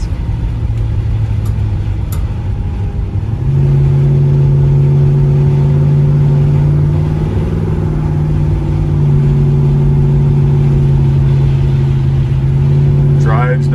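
A 1965 Chevrolet Chevelle 300 engine pulls steadily from inside the car, its tone stepping up as it accelerates on takeoff and holding a loud drone through the rest of the run.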